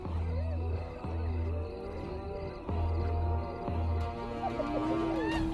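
Male lions roar in the wild, with deep, pulsing grunting roars repeating in bursts, loud and close, alongside other rumbling animal calls.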